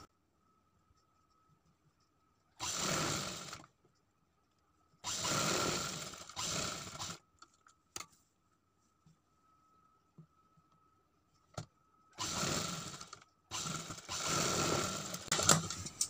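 A sewing machine stitches seams along the margin of a fabric sleeve in short separate bursts of running, with quiet pauses and small clicks between them.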